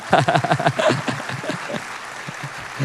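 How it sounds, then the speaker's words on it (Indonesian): A church congregation claps along in a quick, rhythmic burst at first that gradually thins out, with a voice speaking over the clapping. "Mana tepuk tangannya, semangat buat Tuhan."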